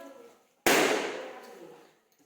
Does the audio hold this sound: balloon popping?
yes